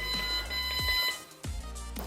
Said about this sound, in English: If you don't press this, it's gonna beep when you go in reverse.